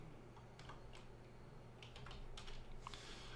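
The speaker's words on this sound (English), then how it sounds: "I'm typing." Typing on a computer keyboard, quiet irregular clusters of light key clicks in short bursts over a faint steady background hum, with no talk.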